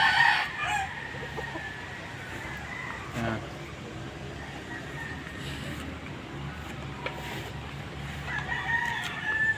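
Hens cluck outside on a farm in the Philippines, with a rooster crowing and more clucking from nearby birds, while a person talks over the flock.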